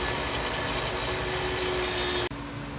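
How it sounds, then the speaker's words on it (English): A fuel pickup tube from a 1938 Sears 500 Briggs engine is pressed against a spinning wire wheel to strip varnish, making a loud, constant grinding whir that cuts off abruptly near the end. "Now I'm cleaning the fuel pickup tube on the wire wheel."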